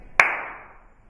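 One sharp hand clap rings out in a recording room with a nice but short reverb, its echo decaying smoothly over roughly a second.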